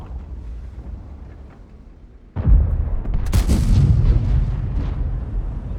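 Tank cannon firing in World of Tanks: after a quiet rumbling idle, one sudden loud boom breaks in, followed by a sustained roaring, crackling tail with no voices.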